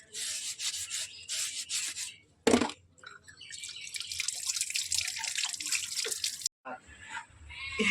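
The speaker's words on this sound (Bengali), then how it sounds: "কালকে টাইম পাইনি ধোয়া টিফিন বাক্স তাই আমি এখন ধুয়ে দিলাম" A tiffin box being washed under running tap water, with close rubbing and scrubbing over splashing and dripping, broken by short pauses, and faint talk in the background.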